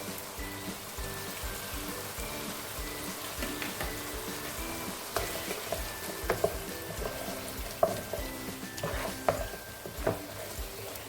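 A pot of egusi soup base with tomato paste, hot chili and onion being stirred, giving soft scraping and stirring sounds over a steady low sizzle, with a few sharper clinks of the spoon against the pot.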